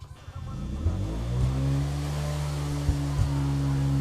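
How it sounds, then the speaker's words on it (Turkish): A steady engine drone in a Five Nights at Freddy's video game revs and holds, its pitch climbing and settling, with a couple of sharp clicks; no talking. "Lan motor sesi. Motoru deniyorlar motoru deniyorlar arkadaşlar."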